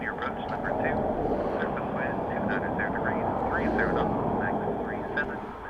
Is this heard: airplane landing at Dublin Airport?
yes